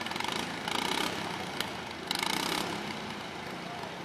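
Several lawn mower engines run steadily for a demolition-derby-style mower soccer match, giving off a loud, continuous broadband rumble with a few brief surges. No voices are heard.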